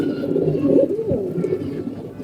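A white domestic pigeon coos in a low, rolling murmur of several close, overlapping calls that run steadily through the whole stretch without any talking.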